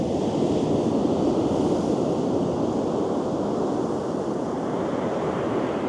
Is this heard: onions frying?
no